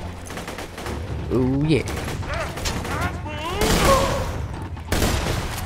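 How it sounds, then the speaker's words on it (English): Machine gun fire in Borderlands 2, rapid bursts of shots rattling loudly over layered game effects and enemy cries, with someone speaking briefly between volleys. "I'm loving this machine gun."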